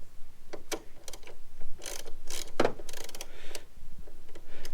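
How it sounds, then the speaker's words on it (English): Fog light screw being backed out with a T30 Torx driver, giving a run of close, short clicking and ratcheting ticks in uneven bursts, with no talking. "Get your T30 Torx, you want to unscrew this one all the way out."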